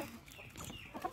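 Chickens cluck softly at close range in a brief, low-level burst, with a slightly sharper cluck near the end.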